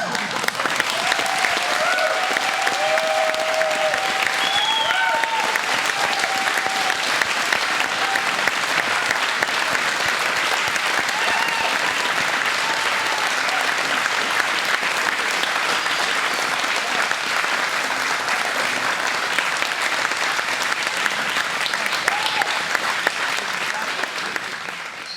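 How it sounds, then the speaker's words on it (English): Sustained, dense applause from a poetry reading audience, loud and steady for about twenty-five seconds before easing at the end, with a few faint voices in the crowd. "like to have another round of applause."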